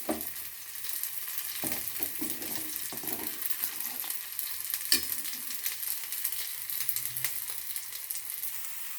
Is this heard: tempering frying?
yes